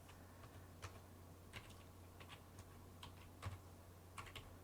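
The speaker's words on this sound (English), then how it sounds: "I'm typing with one hand" Someone types on a computer keyboard using only one hand, producing sparse, irregular single keystrokes and small clusters of clicks, faint and close against low background hum.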